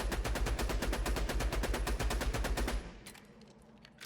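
Rapid, evenly spaced rifle shots pound at the boss Crystallis in Borderlands 2, a loud steady stream of reports that stops near the end, leaving a few scattered fainter impacts.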